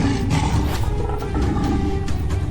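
A lion roars loudly in a tense outdoor dramatic scene, a sustained rough growling roar filling the whole clip with a dense, noisy backdrop.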